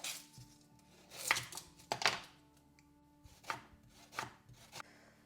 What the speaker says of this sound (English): Going to start with 4 onions and I'm going to first thinly slice them.